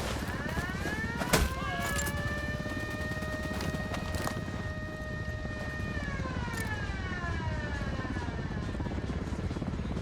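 Military helicopter in the video game Ghost Recon Wildlands, its rotor whine steady and loud for most of the stretch, fading slightly toward the end over constant background noise, with no talk.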